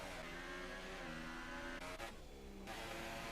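An F1 2018 video game racing car engine revs steadily in a glitch during an F4 race at the Bahrain GP, droning continuously with brief shifts in pitch.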